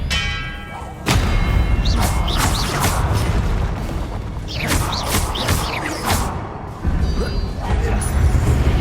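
A spell cast in the Hogwarts Legacy video game lands as several loud magical bursts and thuds with bright shimmering crackles. The hits come in uneven clusters over constant booming game music.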